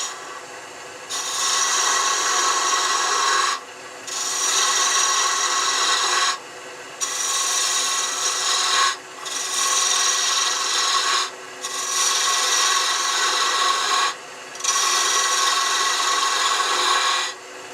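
A turning tool cuts into spinning wood on a lathe in a series of long, loud, rasping passes, each lasting about two seconds and separated by brief pauses, with no voices.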